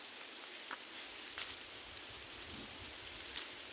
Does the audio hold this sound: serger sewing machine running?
no